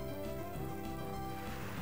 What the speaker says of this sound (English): Rain continues to fall.